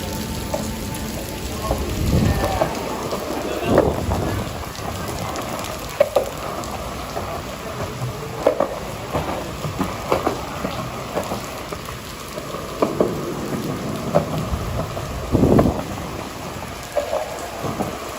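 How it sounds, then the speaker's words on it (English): Heavy rain from Hurricane Elsa pours onto a Manhattan street at night, a dense continuous hiss of drops on pavement with occasional splashes and thumps, loud and steady throughout. "even though it's raining."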